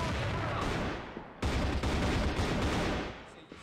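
Rapid bursts of gunfire from a first-person shooter match on the map Subbase, dense and loud for most of the stretch with a brief break, no talking.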